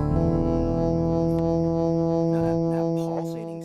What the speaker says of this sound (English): The pulsating sounds you hear